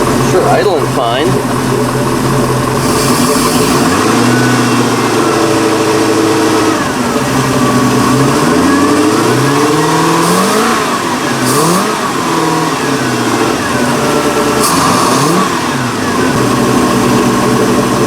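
A carbureted Mercruiser 5.0 V8 boat engine, earlier running rough, runs loud and close, revving up and down in several swelling pulls over a steady idle rumble, with someone speaking over it.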